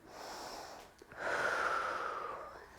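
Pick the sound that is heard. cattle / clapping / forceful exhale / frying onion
forceful exhale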